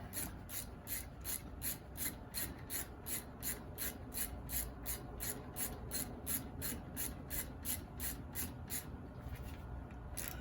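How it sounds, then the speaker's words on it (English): A Matco hand ratchet clicks steadily in a regular back-and-forth rhythm, around twenty strokes, while stuck brake calipers are replaced on an OBS Chevy K1500 pickup; the sound is fairly faint and close, with no talking. "This ratchet sucks. Matco ratchet."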